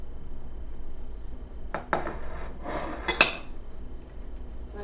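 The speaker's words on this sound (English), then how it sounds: "Let me get this pan out of the way." A metal pan clanks and clinks a few times as it is shifted aside on a kitchen counter after oven grilled cheese, brief knocks over quiet room tone.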